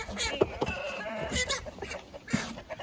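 Chickens clucking and squawking in short bursts close by on a poultry farm, mixed with other animal calls and rustling.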